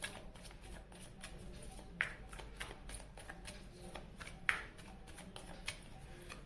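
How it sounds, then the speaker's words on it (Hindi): Tarot cards are shuffled close by, giving soft riffling and flicking with a couple of sharper snaps, quiet throughout and with no talk. "तो चलिए कार्ड शफल करते हैं"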